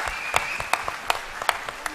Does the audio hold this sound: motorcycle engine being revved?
no